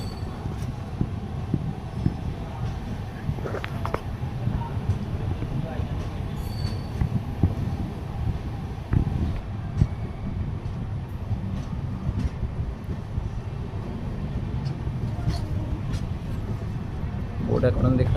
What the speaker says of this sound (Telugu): ఆ ట్రైన్ అటు, మన ట్రైన్ ఇటు